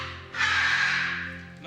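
A parrot lets out one loud, harsh squawk lasting over a second, close by, over a low steady background hum.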